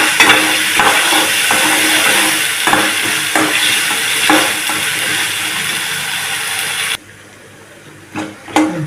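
Onions sizzling loudly in a pan as a cook lightly sautés them, with steady frying hiss and intermittent scraping stirs, then the sizzle drops away to near quiet with a few clanks at the end.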